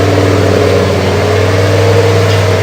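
A Jeep engine held steady at 2,000 RPM during testing gives a loud, continuous mid-pitched drone with a constant hum and no breaks, alone with no talking.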